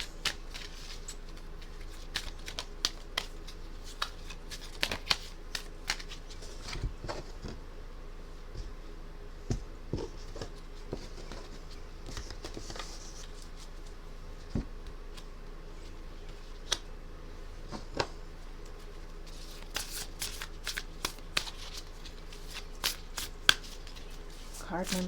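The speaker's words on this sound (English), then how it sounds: "Cards have previously been shuffled, but I will go through" Tarot and oracle cards are shuffled quietly and repeatedly, with soft riffling flicks and light taps spread through a hushed room.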